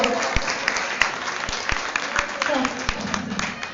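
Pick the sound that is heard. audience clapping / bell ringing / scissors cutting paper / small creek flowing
audience clapping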